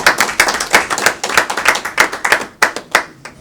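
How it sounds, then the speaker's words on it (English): Audience at a human rights policy briefing claps loudly and close by, a dense burst of individual hand claps that thins toward the end. "So a round of applause for the human rights."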